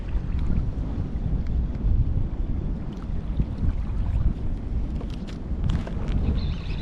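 Wind gusts buffet across an open lake from a boat, a steady rough rush with low rumble against the microphone, continuous and close, with no talk.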